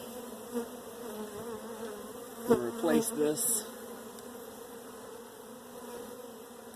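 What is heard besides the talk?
honeybees buzzing and flying away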